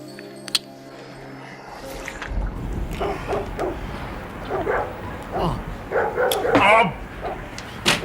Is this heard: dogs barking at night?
yes